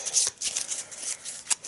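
Arkham Horror game cards being shuffled up close, a quick riffle followed by softer flicking and a final sharp snap of the deck.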